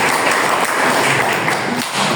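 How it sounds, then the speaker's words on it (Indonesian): A classroom audience applauds in a brief burst of dense clapping, loud and close, sustained throughout with no voices. "tepuk tangan untuk Mas Damal."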